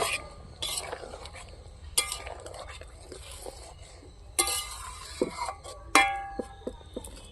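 A spoon stirring egg and green pea curry in a pan, soft scraping with scattered metallic clinks and taps, fairly quiet, with a low voice speaking in between.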